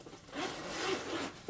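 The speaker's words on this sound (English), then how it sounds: "It has a zipper up here." A zipper on a makeup brush case is pulled open in one smooth, quiet, close rasp lasting about a second.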